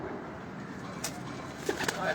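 Pigeons on a rooftop in Islamabad, soft low cooing under a steady murmur of outdoor background noise, with a few brief sharper bird sounds near the end.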